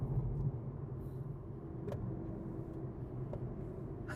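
A Volkswagen Virtus base model sedan on the move, heard from the cabin as a low, steady road and engine hum with faint rumble and a couple of soft clicks.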